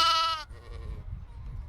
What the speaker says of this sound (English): What animal made that sound? A sheep!